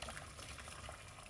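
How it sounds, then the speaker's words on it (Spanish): Hot water pours from an electric kettle into a cooking pot, a steady broadband gush of liquid running continuously and close by, with no talking over it. "Yo, como tengo el hervidor de agua, ya le voy a echar el agua calentita."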